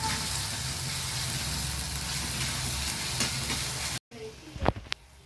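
Onion and masala paste fry loudly in hot oil, giving a steady, close sizzle that cuts off near the end, followed by a few clinks and a stir.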